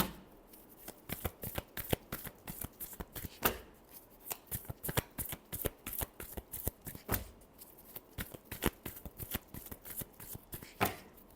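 Tarot cards shuffled in quick, crisp riffles and slaps, a steady run of sharp papery bursts close to the mic with no talking.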